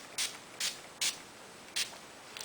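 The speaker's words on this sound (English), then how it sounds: "I'm going to spritz my face now with the Skindinavia Makeup Finishing Spray" Four quick, soft hissing spritzes of Skindinavia makeup finishing spray mist onto a face at uneven intervals, each a short airy puff in an otherwise quiet room.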